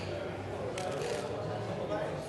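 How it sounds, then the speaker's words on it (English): A quick burst of rapid riffling as a deck of cards is shuffled, with people talking softly around it. "Shuffle the pack like this."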